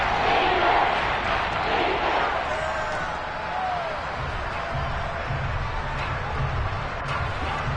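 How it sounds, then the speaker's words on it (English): Stadium crowd in the Madden 22 football video game on PS5 roaring steadily before a big third down, a dense, sustained wall of cheering that swells and holds throughout, with a voice faintly underneath. "The crowd getting into it as we come up on a big 3rd down."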